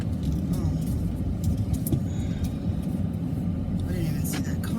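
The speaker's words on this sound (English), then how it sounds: "I didn't even see that car pull up." A car pulls up with a low, steady engine rumble that runs throughout, partly under someone talking nearby.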